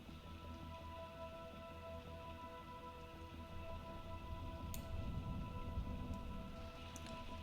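Steady rain falls in a video game, a soft, even hiss that runs unbroken throughout with a couple of faint ticks, and no one speaks.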